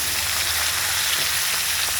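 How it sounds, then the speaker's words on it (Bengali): Bhola fish frying in hot oil, a steady dense sizzle and crackle that holds loud and close for the whole stretch with no voices. "কত ভাজি বন্ধুরা, বড় বড় মাছ তো ভেঙে যাবে"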